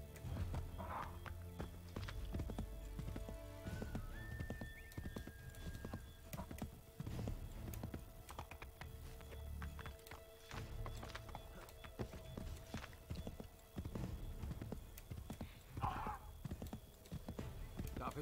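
Horse hooves clip-clopping at a steady pace with a brief whinny, from a ridden horse in the video game Assassin's Creed 3, heard among game music and effects, with a voice talking at times.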